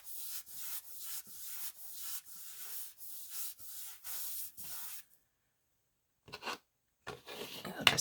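Ink is rubbed onto the embossed edge of a card in about a dozen quick, evenly spaced scratchy strokes, close up, followed by silence and a few scattered rustles.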